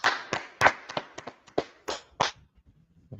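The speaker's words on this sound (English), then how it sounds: "Clap it up for the class." Scattered hand claps, about a dozen sharp irregular claps at close range, thinning out toward the end.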